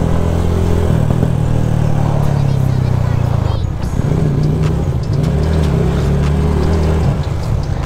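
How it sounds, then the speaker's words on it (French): An R125 motorcycle rides through busy Paris traffic on the Champs-Élysées, its engine droning steadily and loud up close with a shift in pitch midway, surrounded by traffic noise and some voice. "je roule enfin en R125 sur les Champs"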